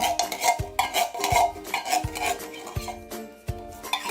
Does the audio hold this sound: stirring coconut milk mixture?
yes